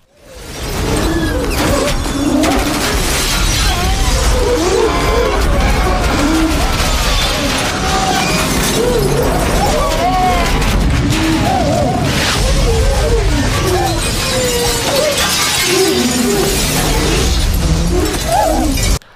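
A slow-motion explosion scene from the film Operation Sword Rain (剑雨行动): a loud, continuous roaring blast with crackling debris that fills the whole stretch without letting up.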